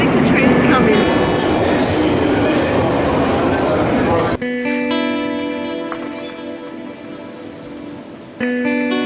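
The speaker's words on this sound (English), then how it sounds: "I think the train's coming" A London Underground Tube train arriving at the platform, a loud rumbling roar with rail clatter that suddenly drops to a quieter steady hum with a tonal whine as it comes to a stop; voices are heard faintly in the background.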